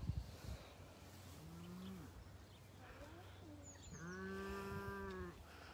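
Cattle moo at a farm animal park, two drawn-out lowing calls rising from a quiet background with faint bird cooing, the second moo longer and slightly louder, at moderate distance.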